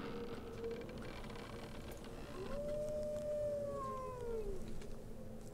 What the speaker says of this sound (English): I don't know where the wolf howl is coming from.